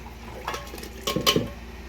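Dates drop into a juice jar with a few soft clinks and taps against glass, brief close clatters spaced over two seconds in a quiet kitchen.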